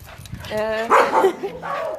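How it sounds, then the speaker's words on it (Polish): An old dog, blind in one eye, barks and yips close by in a few short, sharp bursts mixed with whiny vocal sounds. "to jest starszy piesek, który nie widzi na jedno oko"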